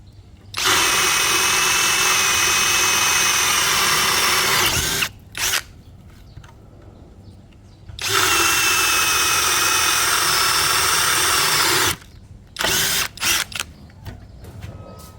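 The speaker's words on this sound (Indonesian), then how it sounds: "Kalau menggunakan mata Forstner Bit enak." A DCA ADJZ1203E cordless brushless drill bores with a Forstner bit in two long, loud, high-revving runs of about four seconds each. Short gaps separate them, and brief blips of spin-up and spin-down follow each run.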